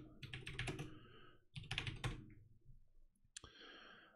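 Fast clattering keystrokes on a computer keyboard in two quick bursts with a short pause between, ending in a single sharp key press, close and alone without talk.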